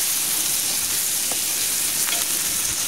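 Peppers with red and white onions sizzle loudly on a grill alongside leftover cheesesteak meat, a dense, steady crackle and hiss with a few sharper pops, no voices.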